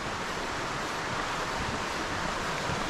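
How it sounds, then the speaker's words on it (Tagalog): A river in Devil's Glen Forest, County Wicklow, Ireland, rushes steadily beside a forest walk, a broad, even wash of flowing water heard alone without talk. "nasa gilid na tayo ng ilog"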